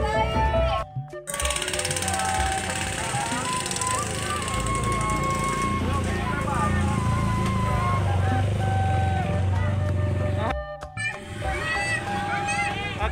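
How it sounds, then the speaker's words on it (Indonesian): A motorcycle carrying a bride on her way to the wedding ceremony in Banyuresmi, Garut: a loud, rattling engine runs close and continuously, with a crowd talking and chattering around it. "Pengantin naik motor."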